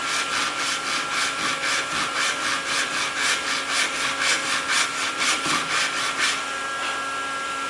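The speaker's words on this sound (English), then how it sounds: "and start sawing." Steady back-and-forth strokes of a tenon saw cutting wood along a marked line, rhythmic and close, about two strokes a second before stopping.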